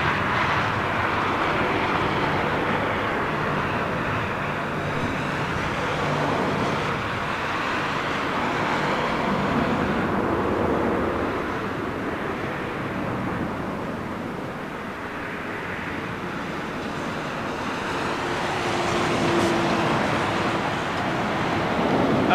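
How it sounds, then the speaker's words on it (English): A British Airways Boeing 747 jet at London Heathrow produces a broad, steady roar that swells and fades over about twenty seconds, heard at a distance and mixed with continuous outdoor background noise. "then a Boeing, British Airways Boeing 747"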